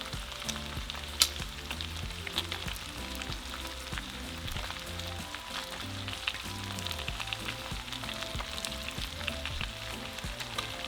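Chorizo fries in a pan for discada norteña, a steady close crackling sizzle with scattered pops and light stirring scrapes, continuous throughout over faint background music, with no voices.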